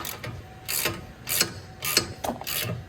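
Ratchet wrench tightening a long brake caliper bolt on an Infiniti Q50 front brake, a series of close, crisp clicking bursts in regular strokes with short pauses between, no talk.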